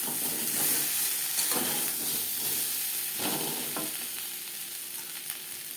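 Taro sizzling and frying with spices in a pan for Bengali fish curry, a steady close hiss with a few louder scraping stirs, no talking.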